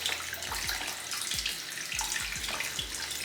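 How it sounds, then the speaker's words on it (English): Tap water trickles steadily over an upside-down air plant held at a sink, a close, continuous splashing stream with soft droplets and thuds landing in the basin. "Keep it upside down, and I just let the water kind of trickle over it."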